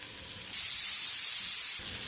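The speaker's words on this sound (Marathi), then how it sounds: "आता हा कांदा मी व्यवस्थित असा भाजून घेते" Onion frying in a pan for a spicy misal pav, a loud steady sizzle that rises abruptly and then cuts back to a quieter, gentler crackle near the end.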